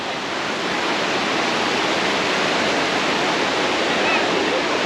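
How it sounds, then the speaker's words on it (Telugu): A waterfall on a mountain trekking trail at Los Dinamos in Mexico, a loud, steady broadband rush of falling water heard close and continuous throughout. "వాటర్ ఫాల్స్ అయితే అక్కడైతే ఉంది."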